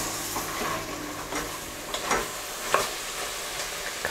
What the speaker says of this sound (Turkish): Kavrulan etimin ve soğanın üzerine hemen taze fasulyemi ekliyorum. 2 dakika fasulyelerimi kavuracağım.